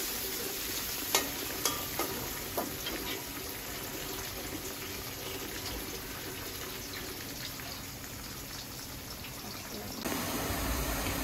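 Salted onions fry in a pan with a continuous close sizzle, a few sharp clinks of a stirring spoon early on and a steady bubbling hiss throughout.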